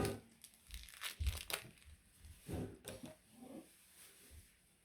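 Plastic packaging around a bracelet-making cord is handled up close, giving a run of soft irregular crinkles and rustles in short bursts, quiet with no talking.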